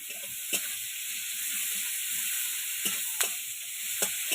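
Onions fry for a sour-spicy fish curry with a constant bright sizzle, close and steady, broken by a few sharp utensil clinks.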